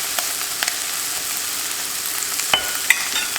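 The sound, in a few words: stirring flour into browned sausage sizzling in a pan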